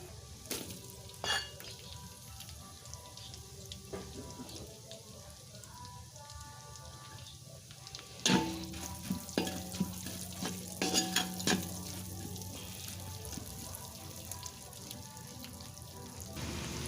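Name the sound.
onions sautéing in a pan for dinuguan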